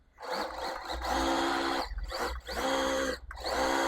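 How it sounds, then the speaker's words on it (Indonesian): Small electric motor of an RC Land Rover Series III (Pinecone SG1009) running in bursts, a harsh, buzzing whine that rises and drops with pauses between runs, close and fairly loud. "Cuma untuk suara motornya kasar banget ya teman-teman"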